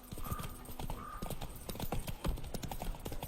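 Roach, Geralt's horse in The Witcher 3: Wild Hunt, clip-clops along with steady hoofbeats, and a brief whinny is heard early on, all fairly close against a game soundscape.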